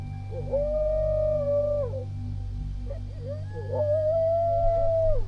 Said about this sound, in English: Coyotes out there or something